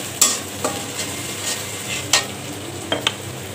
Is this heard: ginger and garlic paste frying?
yes